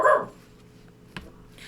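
One short, close dog bark at the start, followed by quiet and a faint thump.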